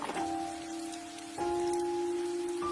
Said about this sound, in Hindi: इतने में अचानक आसमान में बिजली चमकी और फिर से तेज बारिश शुरू हो गई।